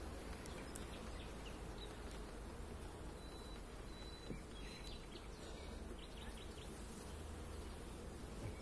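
A fairly strong honey bee colony in a three-box hive giving off a steady, faint, even hum of countless wings, with occasional thin chirps of birds in the background.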